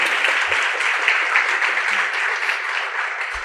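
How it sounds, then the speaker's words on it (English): Audience applause at an Influential Women of Jackson, Tennessee event, a steady, even roar of many hands clapping with no pauses, moderately loud and unbroken from start to finish. "Mr. Heen, a round of applause."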